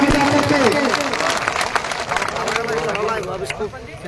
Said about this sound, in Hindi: आपका जोरदार तरीके से स्वागत करें। तालियां बजा करके